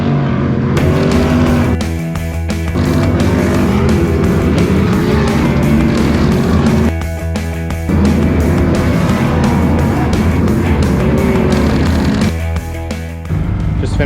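Pro Light off-road race trucks in a Lucas Oil Off Road Series race roar loudly and continuously, their engines droning near and steady, with brief dips and surges as vehicles pass or shift.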